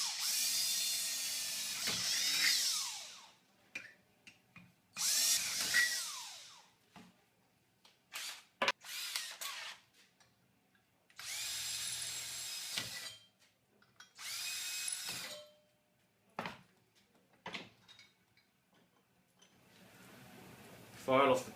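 An electric drill bores holes in steel cable tray brackets with 6.5mm and 4.5mm bits, several loud high-pitched bursts of drilling separated by pauses, with clicks and handling noises between them.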